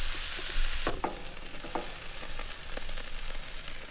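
Grass-fed organic beef burgers sizzle on a camp grill outdoors, a close, steady hiss with sharp pops and crackles scattered through it, following a brief louder burst at the start.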